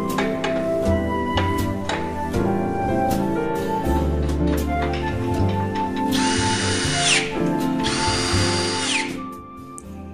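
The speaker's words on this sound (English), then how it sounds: "hand tighten the bolts, then tighten them further with the power drill." A power drill tightens bolts fastening legs to the mechanism of a Performance Teamwork flip-top table, whirring steadily and loudly up close, with two sharp higher bursts as each bolt seats.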